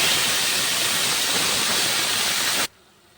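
Greens dropped into a hot pan after dried red chilli tempering, bursting into a loud, dense, steady hiss that cuts off abruptly to near silence, with no talking.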